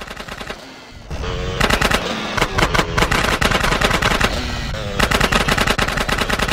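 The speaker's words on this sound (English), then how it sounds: "you just keep close and fire when Catalina fires, and you'll take them down" Gunfire from the video game GTA San Andreas during a Catalina mission: loud, rapid automatic bursts after a brief lull, with short pauses between volleys and the shots continuing to the end.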